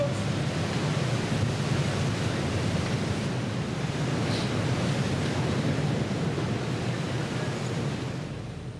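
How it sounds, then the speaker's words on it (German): Heavy sea surf and gusting wind roar steadily offshore on the North Sea, a dense, continuous wash of breaking waves with wind buffeting close to the microphone and no break in the noise. "Oben am Sicherungsseil schreit Martin Schellnick gegen Wellengetöse und Wind an"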